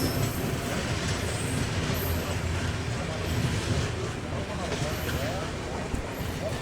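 Madurai–Chandigarh express passing at Naidupeta station, a steady loud rumble of rolling wagons and wheels throughout, with faint high squeals above and a voice talking over it.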